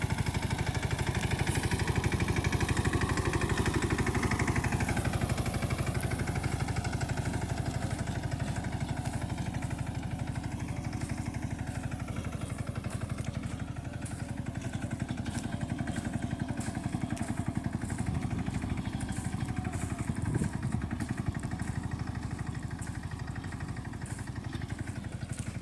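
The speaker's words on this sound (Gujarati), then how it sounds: "મિની ટ્રેક્ટરથી રાપ કાઢીએ" A mini tractor engine runs steadily in a peanut field, a continuous mid-pitched clattering drone at moderate distance with slight shifts in revs.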